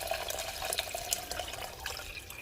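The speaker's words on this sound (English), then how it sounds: "So now I'm going to add my water." Steady splashing and trickling of water poured into a pot on a stove, with bubbly, gurgling texture throughout and no talking.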